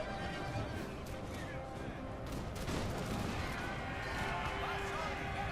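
Musket volleys crackle through a dense Napoleon Total War battle soundscape with horses neighing and hooves clattering, a continuous loud clamour with faint speech beneath.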